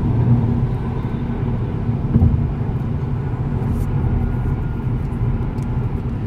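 A Lexus GS F cruises on a highway, giving off a continuous low engine and road drone with tire rumble. The sound stays steady and even, with no speech.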